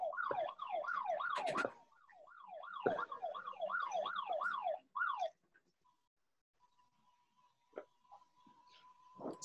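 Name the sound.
ankle alarm going off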